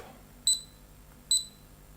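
A RunCam Split action camera gives two short, bright electronic feedback beeps, about a second apart, each a clean high tone over a quiet background hiss.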